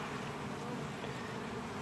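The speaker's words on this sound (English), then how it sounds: "Just bees all over this thing." Honeybees swarm over wax comb left out to be cleaned, a steady close droning buzz with no pause.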